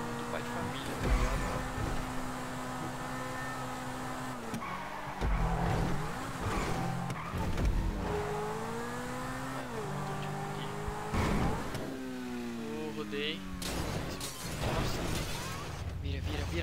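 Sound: racing cars driving in a video game

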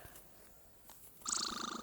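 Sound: cat purring in a pet trading video game

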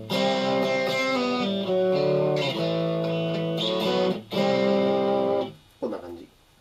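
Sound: electric guitar through ZOOM G3 with high-gain distortion

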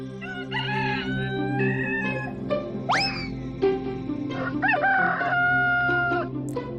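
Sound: roosters crowing

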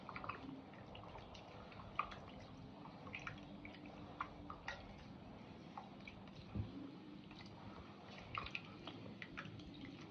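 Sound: stirring fermented millet porridge (koozh) with water and salt

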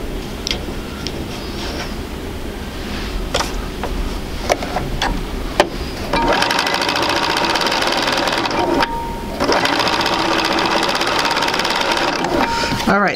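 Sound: sewing machine stitching quilt pieces

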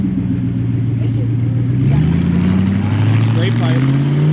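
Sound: car with straight-pipe exhaust revving

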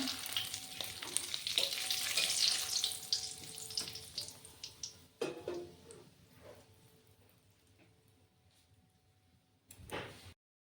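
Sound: dried chilli and bay leaf frying in oil

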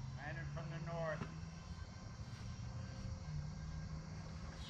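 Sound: E-flite A-10 Thunderbolt II RC electric ducted fan jet landing

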